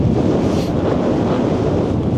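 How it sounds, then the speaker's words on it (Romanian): Strong wind gusting on a New Zealand coast at sunset, buffeting the microphone with a loud, continuous low rumble and rushing noise throughout. "Bate vântul foarte tare."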